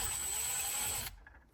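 A tool backs out a screw from the center console side trim of a GR86 / BRZ dashboard with one close, loud whirring burst of about a second, which cuts off abruptly into quiet handling noise.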